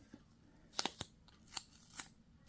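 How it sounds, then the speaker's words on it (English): Scissors snip through paper while a small gift bag is cut out, giving several short, crisp clicks spaced irregularly, fairly close and quiet, with no talking. "Snip that."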